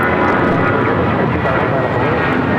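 A jet airliner rolls for takeoff on runway 25 right at LAX, a broad steady engine roar filling the short stretch without letup.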